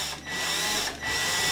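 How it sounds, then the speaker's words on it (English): Power drill starting a hole while working on a 50cc revolver engine, a steady loud whirring drone with two short dips in speed. "And then I turn my drill and I try to mimic that direction."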